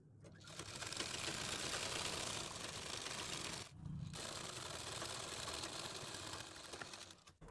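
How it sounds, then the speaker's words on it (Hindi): A sewing machine runs a steady, fast mechanical stitching rattle along a folded fabric seam, loud and close, with one brief pause before continuing and stopping at the end. "मोड़ने के बाद एक पैर की सिलाई लगा देंगे"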